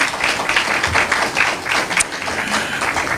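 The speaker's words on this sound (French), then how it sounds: "Gros applaudissements pour Mielovna." A live event audience gives Mielovna a burst of applause, dense clapping that holds steadily for a few seconds at close range.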